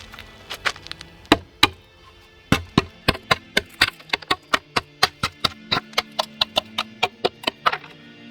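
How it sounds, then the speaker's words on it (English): A solid wooden guitar body is repeatedly knocked against hard ground, sharp thuds arriving irregularly, then in a quicker steady rhythm, close and loud. "you saw me punching the guitar body into the ground a little bit"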